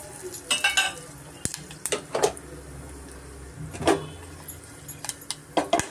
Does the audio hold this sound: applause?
no